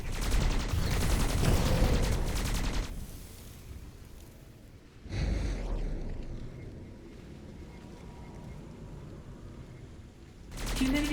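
Rapid gunfire in the game Skyforge, shooting creatures during an Oceanid invasion, loud bursts of fire with a dense rattling wash, a pause, then more sustained shooting and a fresh burst at the end.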